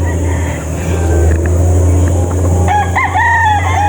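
An imported Golden Boy Sweater F1 gamecock crows once, a loud, close, rising-and-falling call near the end, over a constant low engine-like rumble.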